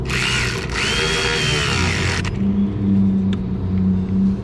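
A power tool whirs as it runs down bolts on the back side of a Toyota Hilux, a steady loud burst that cuts off partway, followed by lower motor-like droning nearby.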